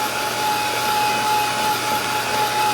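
A dryer blows to dry acrylic paint on a fuzzy Christmas stocking painting, a loud, steady whooshing roar with a thin whine that runs unbroken the whole time.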